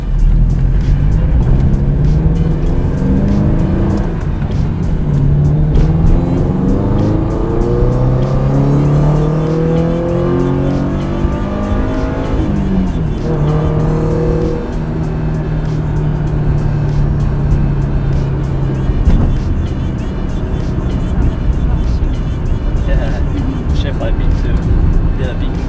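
A Toyota 86, Subaru BRZ or Scion FR-S engine fitted with a UEL catted header and Corsa exhaust, rising and falling through several loud rev sweeps with a rumbly tone, close up and sustained throughout.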